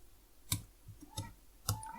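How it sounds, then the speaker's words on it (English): Three sharp key clicks from a computer keyboard, the enter key struck at roughly half-second intervals, close and fairly quiet with no talking. "I'm hitting the enter key"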